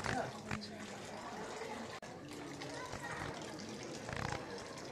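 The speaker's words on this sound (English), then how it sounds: "he's washing his hands with some holy water" Hands being washed with holy water: a steady wash of running, splashing water continues throughout, with people talking over it.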